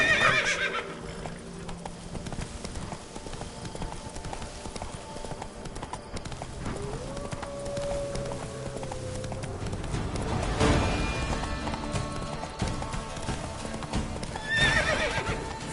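Roach, Geralt's horse in The Witcher 3, gallops with a steady run of clip-clopping hooves, and whinnies and snorts break in along the way. Everything stays close and fairly loud against a game soundscape, with no talking.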